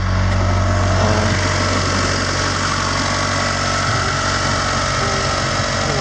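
A Mitsubishi Galant VR4 engine idles steadily and loudly up close, a constant low rumble with an even hum and no changes in pitch; the exhaust sounds near stock.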